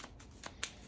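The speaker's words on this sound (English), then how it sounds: "our intrigue cards can give these a shuffle" Dune Imperium intrigue cards are shuffled by hand, giving a few faint, quick riffling snaps in a quiet room.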